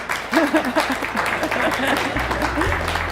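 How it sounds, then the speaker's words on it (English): A conference audience gives a round of applause at a workforce innovation event on self-managed supports, steady clapping filling the room with a voice talking over the start. "So I think that deserves another round of applause as well."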